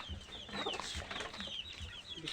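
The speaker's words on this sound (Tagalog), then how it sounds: "Ito mga manok namin dito." Chickens cluck softly in a farm coop, with several quiet, repeated clucks and calls close by against faint background rustling.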